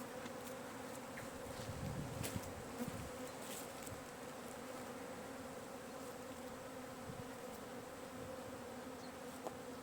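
Steady, continuous buzzing of many agitated honeybees at a hive, a droning swarm hum with occasional individual bees passing closer.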